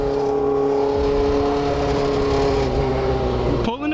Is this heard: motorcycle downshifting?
yes